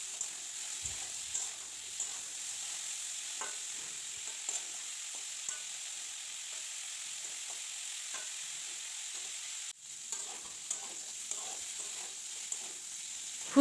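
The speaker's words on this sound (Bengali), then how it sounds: "নুন আর হলুদ গুঁড়ো দিয়ে আরেকটু ভাজা করে নেব" Cauliflower seasoned with salt and turmeric fries in oil, giving a constant soft sizzle with occasional light clicks and scrapes of stirring, close and unaccompanied by voices.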